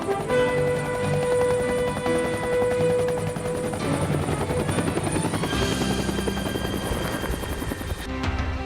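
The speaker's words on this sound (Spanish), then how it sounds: "Su característico sonido clop, clop, clop, clop dio origen a la denominación chopper" A Bell 47 helicopter's rotor chops steadily and loudly, a continuous rhythmic thudding with engine whine, sustained throughout without any voices.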